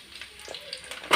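Chopped onion dropped into hot oil with frying garlic, giving soft crackling and a short, louder burst of sizzle near the end, close and fairly quiet.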